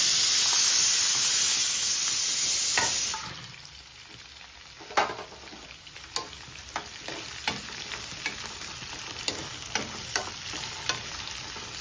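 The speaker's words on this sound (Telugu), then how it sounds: "ఆయిల్ కాగింది. క్యారెట్లు, పచ్చిమిర్చి ఇవన్నీ వేసేసుకుందాం." Carrots and green chillies hit hot oil with onions already in the pan, giving a loud, bright sizzle that drops after a few seconds to a quieter crackle broken by repeated sharp clicks of stirring.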